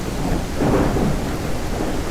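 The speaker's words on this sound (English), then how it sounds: "Did it get even heavier of rain?" Heavy rain with rolling thunder in the survival video game SurrounDead, a dense wash of downpour with a low rumble swelling briefly in the middle, no voices.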